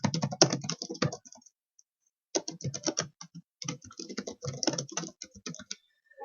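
Rapid typing on a computer keyboard, bursts of close, crisp key clicks separated by a short pause, with no talking.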